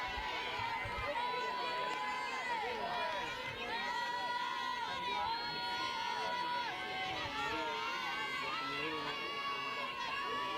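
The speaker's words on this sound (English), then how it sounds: "Great crowd here at Taunton High." Crowd noise at a high school softball game at Taunton High: a busy mix of cheering, children shouting and chatter in the stands, steady and moderately loud, with scattered whistle-like calls riding over the din.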